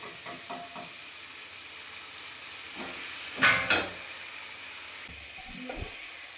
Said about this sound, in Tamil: கடுகு போட்டு, கருவேப்பிலை போட்டு, உள்ளி போட்டு, மிளகா போட்டு, தக்காளி போட்டு எல்லாம் வதங்கின பிறகு கத்திரிக்காய் போடணும்.